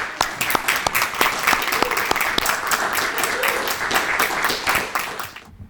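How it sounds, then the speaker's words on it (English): A high school senior recognition crowd applauds its all-state musicians and speech and debate students, a full, sustained round of clapping with sharp individual claps standing out before it fades away at the end. "Let's give our All-State musicians and our All-State speech and debaters a round of applause"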